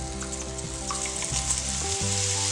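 Drops of laddu batter sizzle and fry in hot oil, a steady crackling hiss that holds throughout, with no talking over it.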